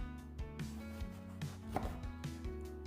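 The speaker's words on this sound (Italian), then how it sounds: "Cominciamo affettando le melanzane." A knife slices through eggplants on a cutting board, with close, crisp cuts falling roughly every half second in a loose rhythm and no talking.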